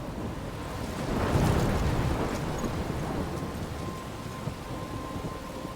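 Thunderstorm in the video game Life is Strange: steady heavy rain with rolling thunder that swells around the second second and then settles into a continuous downpour.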